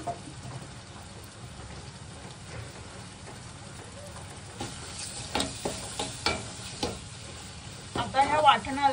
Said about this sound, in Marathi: आता ह्या वाटणाला तेल येईपर्यंत थोडा वेळ परतत घेऊया